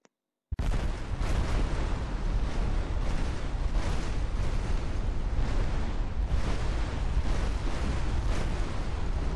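A loud, sustained roaring blast erupts after a brief silence and rumbles on continuously, dense and booming like a big game explosion.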